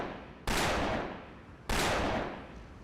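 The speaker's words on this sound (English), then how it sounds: "Alright, gunshots." Two loud, booming video game gunshots, about a second apart, each with a sharp attack and a long reverberant decay; no voices.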